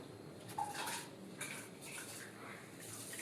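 Pressure cooker lid and metal pots handled in a home kitchen, faint clinks and scrapes at irregular moments, heard from a little distance in a quiet room.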